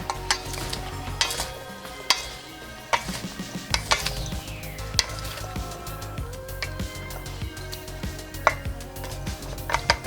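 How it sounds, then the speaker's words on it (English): A Greek salad is tossed with dressing in a bowl, giving close wet squishing and stirring rustles with sharp clicks and clinks of utensils against the dish, with no talk. "Now let's give it a quick mix."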